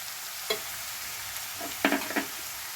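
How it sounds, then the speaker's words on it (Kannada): Bitter gourd gojju being stirred with tamarind juice in a pan, a few soft scraping strokes, then a quick cluster of louder spoon scrapes, over a faint steady sizzle, with no voices. "ಹುಣಸೆಹಣ್ಣು ರಸ ಎಲ್ಲ ಚೆನ್ನಾಗಿ ಮಿಕ್ಸ್ ಮಾಡೋಣ"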